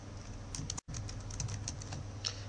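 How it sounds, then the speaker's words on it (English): Quick, light key taps on a computer keyboard, a faint close run of clicks over a low background hum. "by typing in a new name and clicking Apply."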